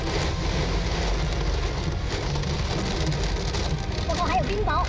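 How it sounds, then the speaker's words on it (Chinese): Heavy storm rain with hail pours onto a car windscreen on a Guizhou road, a dense, loud, unbroken roar of water and gusting wind, with a voice speaking over it. "哇，又是风又是雨。"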